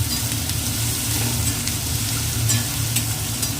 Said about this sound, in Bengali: এবার সব ভেজিটেবলগুলো ভালোভাবে ভেজে নিই।